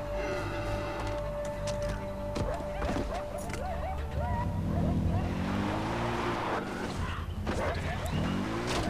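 A quad bike engine in the video game Far Cry 4 revs and rises in pitch, mixed with dense in-game sounds and music throughout.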